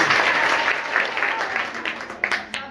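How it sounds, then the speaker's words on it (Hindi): A classroom of schoolchildren breaks into a loud round of clapping, dense and sustained for a few seconds, with a couple of sharper claps standing out near the end. "एक बार जोरदार ताली।"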